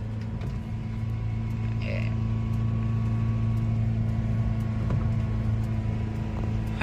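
A Toyota Innova engine idles roughly at low RPM, a steady low drone with uneven hum and faint knocks running throughout, close and continuous with no talk.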